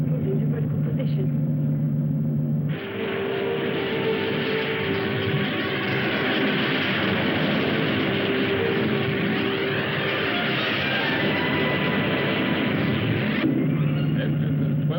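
Rocket engines roar in a steady, dense rumble in a 1960 science-fiction film. The sound starts abruptly, holds loud and unbroken for about ten seconds, then cuts back to a lower hum.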